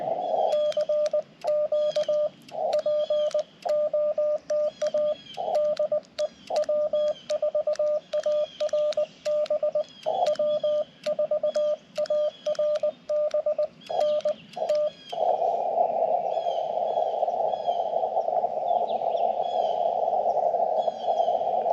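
Morse code CW tones keyed on a Yaesu FT-891 HF radio during a portable parks activation: a steady sidetone pitch sounding in rapid dots and dashes with regular character gaps, then a long unbroken tone near the end, close and clear, with no talking.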